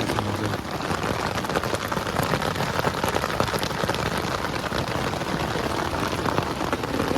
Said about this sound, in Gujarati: એટલો વરસાદ આવે છે